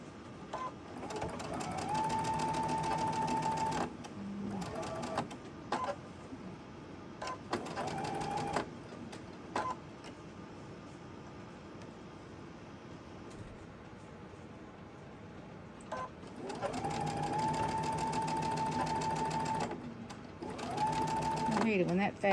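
A sewing machine stitching quilt fabric runs in several long steady whirring stretches, close and loud, with a person talking in the pauses between runs.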